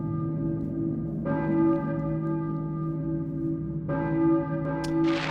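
Church bell in the Silent Hill video game tolling with a sustained, ringing harmonic tone, two distinct strikes a few seconds apart, each swelling and slowly decaying, heard alone.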